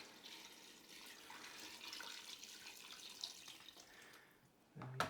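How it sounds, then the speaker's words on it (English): Water runs softly into a tomato can being rinsed out in a kitchen, a faint steady trickle with a brief clink of the can at the end. "I use the water to rinse out the can and just add a bit of water."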